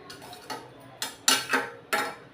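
A spoon stirs rasam curry in a pot with water just added, scraping and clanking against the metal in several quick, close strokes with short pauses between them.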